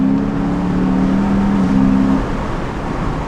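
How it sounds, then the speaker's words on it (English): A Dodge Challenger R/T with universal mufflers, valves closed, drives along with a steady, moderately loud engine hum and low exhaust tone that swells slightly mid-way before easing off, no voices over it. "Right now, guys, we're driving with the valves closed, but it still sounds good. It's just not that loud."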